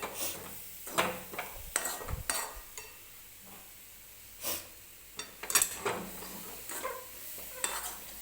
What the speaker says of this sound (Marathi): तर आपल्याला ही साखर सुद्धा व्यवस्थित खोबऱ्यामध्ये मिक्स होईपर्यंत हलवून घ्यायची आहे